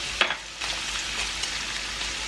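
Garlic cloves hit hot oil in a frying pan for a Korean meal, a sharp clatter followed by a steady, close sizzle with no talking.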